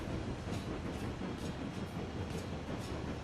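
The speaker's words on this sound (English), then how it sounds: "Is it because we're out of boiler pressure on the other locomotive here?" A steam locomotive in the Railroads Online game rumbles slowly uphill, a dense continuous rolling noise with faint periodic puffs, no talking.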